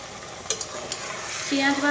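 Chopped onions with ginger-garlic paste fry in a pan for mutton kosha, a steady sizzle broken by a few sharp spoon clinks and stirring sounds, with no talk.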